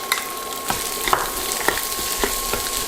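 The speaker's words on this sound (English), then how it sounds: "add the curry leaves and the garlic, then the onions, chilies, and stir fry this about 1 minute" Curry leaves, garlic, onions and chilies stir-frying in hot oil, a steady bright sizzle broken by several sharp scraping clicks of the spatula against the pan, close up with no voices.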